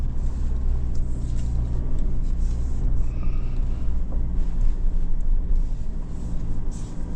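A 2025 Mitsubishi Triton GLX-R crawls off-road in low range with the center diff locked, a steady low engine drone and rumble throughout, close and continuous with no talk.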